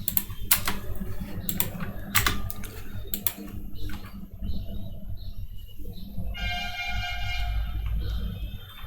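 JavaScript code typed on a computer keyboard for a LeetCode function-composition solution: a few loud, sharp key strikes at first, then softer scattered clicks over a low steady hum.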